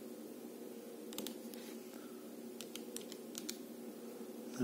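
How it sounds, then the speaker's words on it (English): Quick, light taps on a calculator or computer keyboard as a calculation is entered, several soft clicks in short bursts over a quiet hum, with no talking. "So let's type that in."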